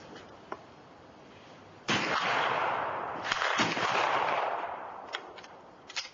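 At a shooting range an antique black-powder firearm goes off with a sharp blast, followed by a long rumbling roar that slowly fades, with a few faint clicks around it.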